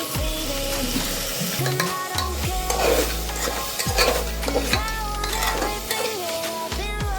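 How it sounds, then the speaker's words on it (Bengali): Marinated chicken frying with soy sauce in a pan, a loud, close sizzle overlaid by repeated scraping stirs and clinks of a spatula against the metal, coming in uneven bursts. "এবার ম্যারিনেট করা চিকেনটা এই এর মধ্যে দিয়ে দিতে হবে, দিয়ে একটু ফ্রাই করে নিতে হবে।"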